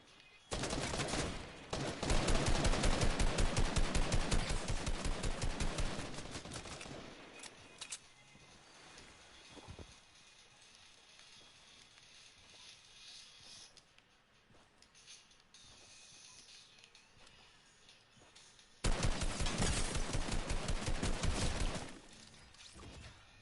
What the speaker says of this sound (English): I have someone shooting at me.